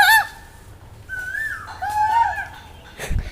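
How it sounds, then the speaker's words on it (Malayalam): A chicken gives a few drawn-out, wavering calls at moderate distance in a quiet evening setting, ending with a dull thump. "അതേതാ കോഴി?"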